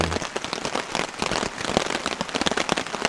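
Rain falls on a camping site, a dense, close, irregular patter of drops hitting surfaces around the camp, continuous and fairly loud with no voices.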